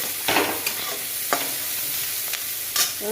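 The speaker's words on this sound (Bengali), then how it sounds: "তেলের মধ্যে লঙ্কা কাঁচা লঙ্কা কটা পেঁয়াজ দিয়ে ভেজে নিচ্ছি এইভাবে ভেজে নেব" Green chilies and onion frying in hot oil, a dense continuous sizzle close up, with a few sharp stirring scrapes spaced through it and no talking.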